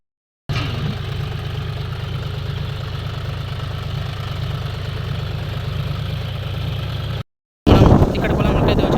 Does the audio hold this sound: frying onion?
no